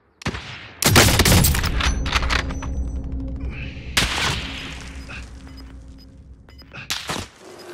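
Gunfire in Call of Duty: Modern Warfare, with sharp, loud shots and rapid bursts cracking close by, echoing booms trailing off between volleys and a lighter metallic ding among them.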